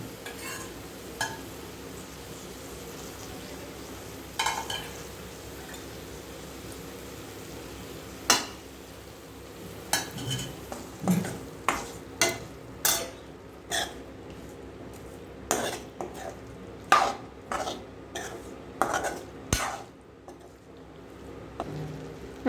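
Cooked mutton tipped into a pan and stirred, giving a run of sharp metallic scrapes and clatters that grow frequent toward the end over a low sizzling background, with no talk.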